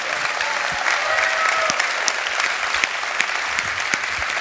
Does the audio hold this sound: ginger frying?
no